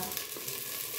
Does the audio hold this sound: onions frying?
yes